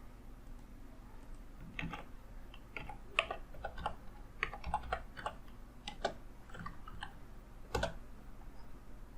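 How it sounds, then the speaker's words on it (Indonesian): A computer keyboard is typed on while someone enters a search keyword into Google. Irregular bursts of close, crisp key clicks run throughout, with brief pauses and no talk. "Kemudian di Google dia akan mengetikkan kata ini."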